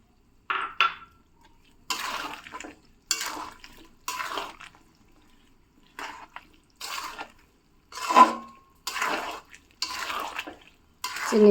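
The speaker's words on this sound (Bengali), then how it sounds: "চিনি দেওয়ার পর আচারটা অনবরত নাড়তে হবে, না হলে নিচে ধরে যাবে।" A spoon stirring garlic pickle and sugar in a pan in regular bursts, each a scraping, sticky swirl about a second long, close and clear, separated by short quiet gaps.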